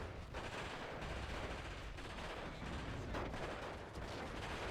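Grenade blasts and gunfire in Steel Division 2 during a fight over heavy forest: a dense, continuous roar of shots and explosions with no clear gaps, steady and loud throughout.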